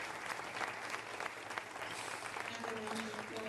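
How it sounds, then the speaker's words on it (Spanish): Faint, steady applause from an audience thanking panelists at the close of a conference panel session, a soft continuous patter of clapping with a murmur of voices beneath. "Por favor, un aplauso para los panelistas."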